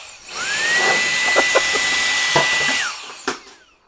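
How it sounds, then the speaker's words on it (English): A Solareye X13 cordless electric air duster spins up with a rising whine, holds a loud steady high-pitched blowing tone for about two and a half seconds, then winds down, with faint clicks and handling noises around it. "That is an incredible amount of power for a little duster like this."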